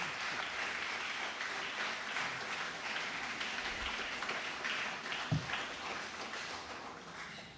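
An audience at a French-language World Stroke Day 2025 event applauds steadily, a dense wash of many hands clapping at moderate distance, continuing without pause.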